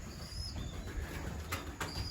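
Young racing pigeons cooing softly in a loft, low repeated coos running steadily throughout with a few faint chirps and light wing sounds in the background.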